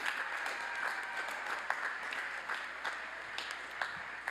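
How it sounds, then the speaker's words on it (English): A commencement audience at a spring university graduation ceremony claps for the graduates, giving a broad, sustained round of applause with scattered sharper claps standing out and no voices on top. "Give them a big round of applause."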